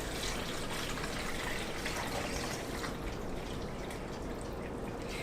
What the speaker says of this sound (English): let's go ahead and pour this water in